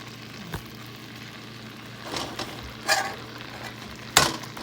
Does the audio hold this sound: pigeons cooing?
no